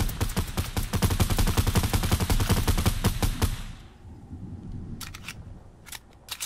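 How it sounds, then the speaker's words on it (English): Rapid automatic gunfire in a video game rattles in a dense, loud burst for several seconds, then gives way to a few scattered shots. "Shoot that wall down."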